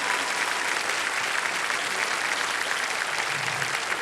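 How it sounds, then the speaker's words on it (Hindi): Loud, sustained applause from a studio audience at a televised quiz show fills all four seconds, steady and dense with no break and no talk over it. "ताली बजा रहे हैं इतनी जोर से तुम्हारे लिए"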